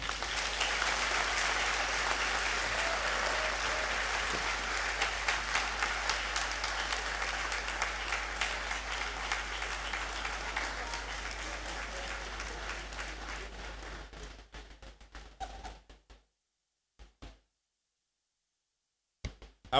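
Audience applause filling a great hall at a congregation ceremony, steady sustained clapping for about fourteen seconds before thinning out and stopping, followed by near silence with a couple of brief faint bumps.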